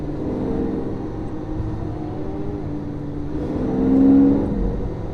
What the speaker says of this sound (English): You just hear that grunt of that engine